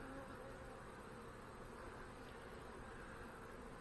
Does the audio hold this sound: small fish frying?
no